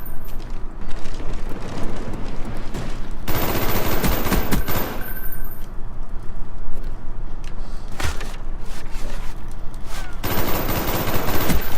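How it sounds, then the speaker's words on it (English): Automatic weapon fire in Call of Duty: Black Ops multiplayer, loud repeated bursts of rapid gunshots separated by short pauses. "I am fucking shooting him in the face"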